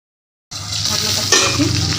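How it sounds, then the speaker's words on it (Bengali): Onions tossed into a hot spice mixture for a Bhola fish curry burst into a loud, dense sizzle right after a short silence, with a brief flare of hissing partway through. "পেঁয়াজটা দিয়ে দিচ্ছি।"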